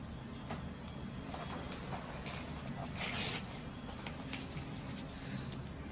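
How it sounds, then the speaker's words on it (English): Paper being crumpled by hand, soft continuous rustling and rubbing with two brief louder crinkling bursts, close and fairly quiet, no speech. "so this way you will crumple and keep the paper"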